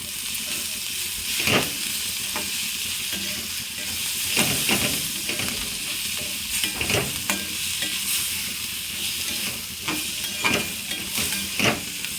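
Sliced onions for onion chutney cook slowly on low heat in a pan, with steady frying sizzle and hiss throughout, broken by repeated scraping strokes of a spoon stirring the mixture.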